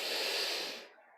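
One deep inhaling breath during a yoga session, close and airy, swelling steadily and then tapering off into quiet.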